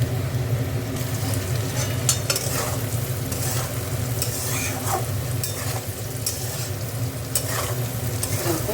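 Beans and potatoes fry in a pan with a steady, close sizzle while being stirred, and scraping and clinking sounds break in now and then.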